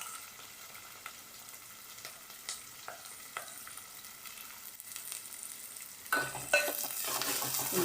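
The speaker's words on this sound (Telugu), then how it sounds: "ఉల్లిపాయ వేసుకొని కొంచెం కలుపుకున్న తర్వాత నూనెలో బాగా మిక్స్ అయిపోవాలండి ఉల్లిపాయ, పచ్చిమిరపకాయలు" Sliced onions and green chillies sizzle in oil for a gongura dried-prawn curry, stirred with soft scrapes and clicks under a quiet hiss that swells into a louder burst of frying near the end.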